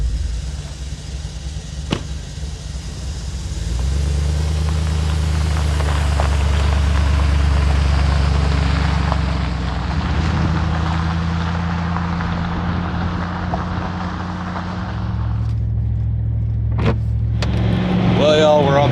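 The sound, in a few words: truck driving on a four-lane road in wind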